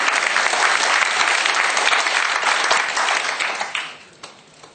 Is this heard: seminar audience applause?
yes